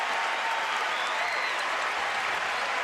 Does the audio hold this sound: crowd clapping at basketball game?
yes